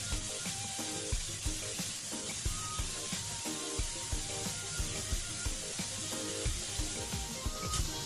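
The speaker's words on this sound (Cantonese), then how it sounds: "咁所以呢啲肉就煎得咁上下，先至落啲葱段落去煎" Pork belly and leek pieces sizzle steadily in a pan, a continuous close, dense crackle with small irregular pops and no voices.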